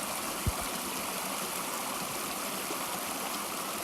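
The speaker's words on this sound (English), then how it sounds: "Stopped to get some water, and once again, I just love this running water." A mountain creek runs steadily through Sages Ravine, its water flowing as a constant, even rush with no speech over it. One brief low knock sounds near the start.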